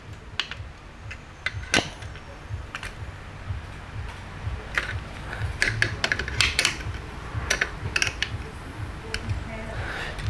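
Small metallic clicks and ticks of screws being tightened into a Tamiya Frog model buggy gearbox, irregular and close, over a steady low background rumble.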